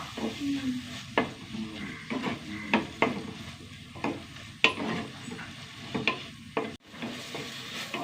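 Onions, with tomatoes added, sauté in a pan under a soft sizzle, while a spoon scrapes and taps against the pan in repeated strokes, close by and with no talking.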